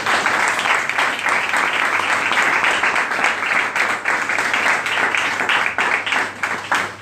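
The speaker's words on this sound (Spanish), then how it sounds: "me gustaría que dierais un fuerte aplauso" An audience at a film festival colloquium gives a loud, sustained round of applause for a guest, dense clapping filling the room steadily for several seconds before beginning to thin at the end.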